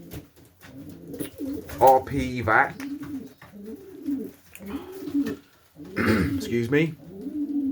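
Pigeons in a loft coo in soft, repeated throaty bursts nearby, mixed with scattered rustling while a person speaks briefly over them.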